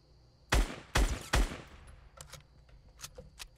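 Silenced SMG in a video game, three heavy, close bursts fired in quick succession, followed by fainter scattered shots and clicks.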